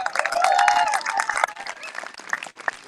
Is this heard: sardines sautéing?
no